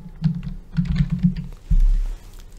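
Keys clatter on a computer keyboard in quick, uneven bursts of close typing, ending with one heavier thump.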